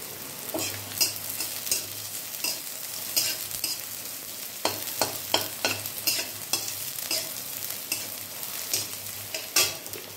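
Chopped garlic frying in a pan, a constant low sizzle broken by repeated spatula scrapes and knocks against the metal, close and lively, with no voices.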